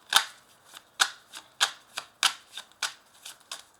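Tarot cards are shuffled before one is drawn for a reading: a sequence of about a dozen crisp, papery riffles and taps at an uneven rhythm, close and clear with no talking.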